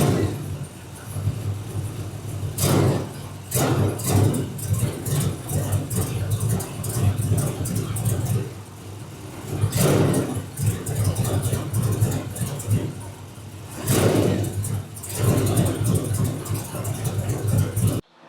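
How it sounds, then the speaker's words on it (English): Car engine running rough after its ignition coil harness is moved, with steady engine noise broken by repeated sharp backfire-like bursts and surges in level. "once you move the harness for the ignition coils, you did see it flare up or, idle down. It did backfire and it did run rough"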